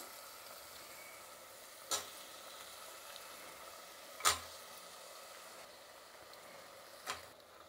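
Potato balls frying in a pan, a soft continuous sizzle with three sharp clinks or stirring knocks spaced a few seconds apart.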